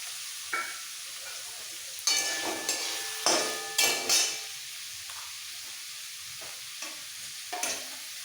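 Medium-sized tomato pieces drop into a hot pan of spiced papaya-and-potato curry, setting off a brief crackling sizzle with a few louder bursts of spitting and stirring amid soft background frying.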